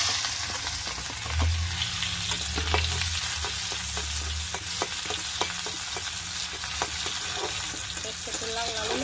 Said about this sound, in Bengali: এখন আমি পেঁয়াজ দিয়ে দিলাম।